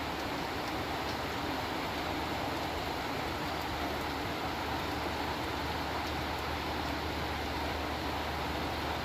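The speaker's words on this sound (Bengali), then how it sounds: "এখন আবার ঝুম বৃষ্টি।" Heavy rain pours down over a rooftop garden, a dense, steady, loud hiss that holds evenly without pause and with no voices.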